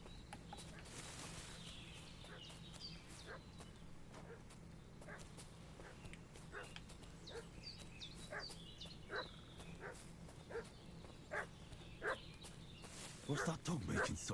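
A dog barks repeatedly in the medieval village world of Kingdom Come: Deliverance II, sharp yaps spaced through the scene at moderate distance over steady outdoor ambience, growing louder and more frantic toward the end.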